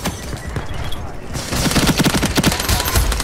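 Rapid bursts of automatic gunfire from a shooter video game, a dense rattling volley that swells louder in the second half, near and harsh over a busy game soundscape.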